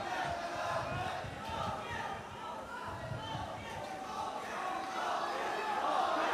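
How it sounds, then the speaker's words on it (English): A crowd at a semi-pro MMA fight roars and cheers continuously, loud and dense, swelling toward the end, with a commentator's voice under the noise. "The crowd is going crazy for Toki since he's a homegrown boy."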